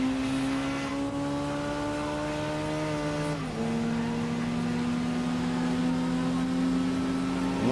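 A Mitsubishi Mirage fitted with an upgraded muffler and exhaust races in Gran Turismo 4, its engine droning steadily at high revs with a clear upshift dip before holding a loud, even whine.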